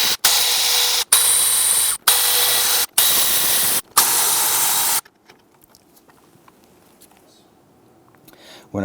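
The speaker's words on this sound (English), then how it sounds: "we're going to come back with our power tool and zip these out" Power tool spinning out valve cover bolts on a 2011–2021 Jeep Grand Cherokee 3.6L V6, five loud whirring bursts of about a second each with short gaps, then quiet with faint handling sounds.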